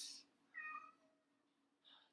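A house cat meows twice indoors: a clear, close tonal meow in the middle, with a softer, shorter call near the end and a brief noise at the start.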